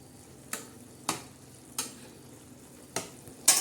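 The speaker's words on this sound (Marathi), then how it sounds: "चांगलं हलवलं ना म्हणजे मग शेंगा सगळ्या बाजूने शिजतात." Flat beans (ghevda) cooking in red masala in a pan, a soft steady sizzle broken by five spaced scrapes of a spoon stirring, close and fairly quiet.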